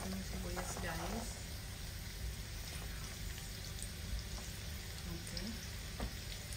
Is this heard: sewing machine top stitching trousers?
no